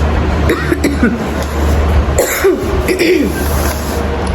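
A person coughs several times, harsh and close, mixed with throat clearing over steady background noise.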